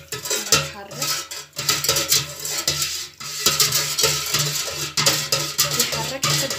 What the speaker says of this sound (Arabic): يحرك حتى تدوب الصودا